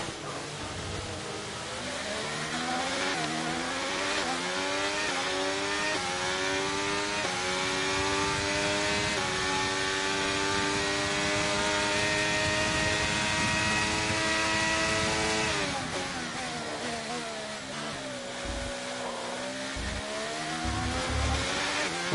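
Formula 1 race car engine in the F1 2023 game at Monza, loud and continuous, pitch climbing through upshifts, then dropping sharply under braking before winding up again.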